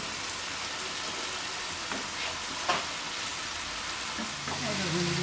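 Chopped spinach goes into a frying pan of sautéed potatoes for palak aloo, giving a steady, dense sizzle with a few soft clatters and no one talking over it.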